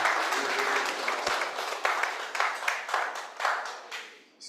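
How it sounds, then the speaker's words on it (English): An audience at an academic inaugural seminar gives a professor a sustained round of applause, dense clapping that gradually thins out and fades, with some voices underneath. "Please, I think we should give the professor another round of applause."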